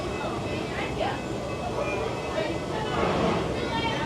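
A Busch Gardens Railway train ride aboard the Balmoral Castle #661 engine, with a steady low rumble of the moving train under a constant murmur of passenger chatter throughout.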